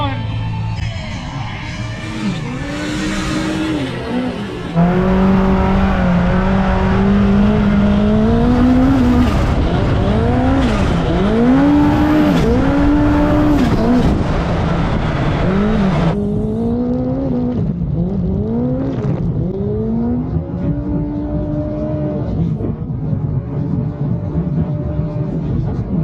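Four-seater UTV engine revving hard during a wheelie at a UTV wheelie event, rising and falling revs in repeated surges, loud and close, with crowd noise and voices over it.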